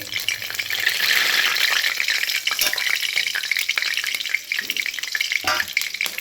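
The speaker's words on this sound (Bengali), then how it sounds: "এবার আমি ফোড়নে দেবো দেখো বন্ধুরা, 5 ফোড়ন, শুকনো লঙ্কা, তেজপাতা আমি ফোড়ন দেবো" Five-spice seeds, dried chili and bay leaf dropped into hot oil, a loud, close, crackling sizzle that holds steady throughout with a few sharper pops and stirring rattles.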